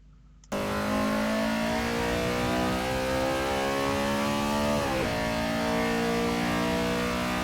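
Honda Civic 86 engine in Assetto Corsa revving loudly and continuously at Cadwell Park, pitch holding steady with a brief dip and recovery midway as the throttle is dabbed, no talk over it.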